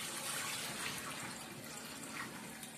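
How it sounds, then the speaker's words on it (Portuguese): Hot water mixed with vinegar, used to scald a chicken, being poured out in a steady rushing splash that runs continuously and fairly quietly, with no talking. "aqui eu tô jogando a água fora, que eu tinha escaldado com água quente e vinagre"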